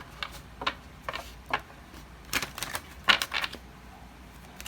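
Oracle cards are shuffled and drawn in a series of crisp, quick flicks and riffles, irregular taps and snaps close to the listener in a quiet room.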